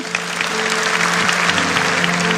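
Church congregation clapping during a sermon, a brief burst of dense continuous applause over a faint sustained keyboard tone.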